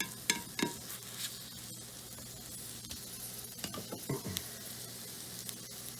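Wild mountain mushrooms frying in olive oil in a pan beside a steak and potato, a steady close sizzle broken by several scraping stirs and clinks of the utensil, with no talk.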